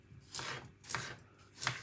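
Knife cutting peeled cucumber on a cutting board, three soft, moist slicing strokes at an even, unhurried pace, close and fairly quiet.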